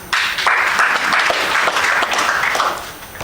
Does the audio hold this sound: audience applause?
yes